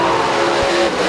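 Drag racing cars, including a Corvette Roadster, at a racetrack: a steady loud engine roar with a broad, dense rumble that holds through the whole short moment and carries no clear talk.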